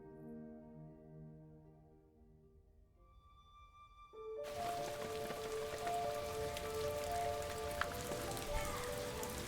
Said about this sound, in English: Unexpected rain has caused a drop in temperature.